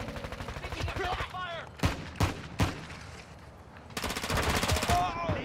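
Call of Duty: Modern Warfare II gunfire, with rapid automatic bursts and several sharp single shots, loud and close, while voices call out over the shooting.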